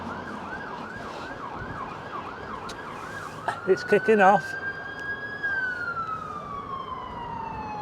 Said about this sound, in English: Oh, I can hear sirens, folks,